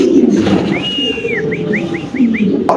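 Danish pigeons at a pigeon farm fill the air with a low, continuous cooing murmur, while a string of short, bright whistled chirps rises above it, close and fairly loud.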